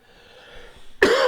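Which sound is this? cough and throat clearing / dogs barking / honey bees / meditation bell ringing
cough and throat clearing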